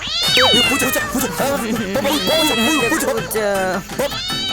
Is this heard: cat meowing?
yes